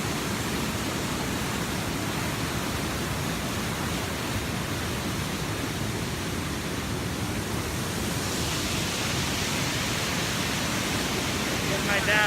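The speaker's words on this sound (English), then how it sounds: "There's the waterfall" Bells Canyon lower waterfall roars with a continuous broadband rush of falling water, loud and close, staying even and unbroken for the whole stretch.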